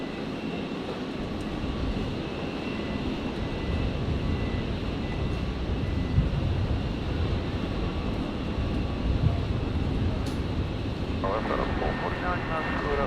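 A Royal Flying Doctor Service Beech King Air taxis at Brisbane Airport, its turboprop engines giving a steady broadband roar and whine at moderate distance, with people talking over it throughout.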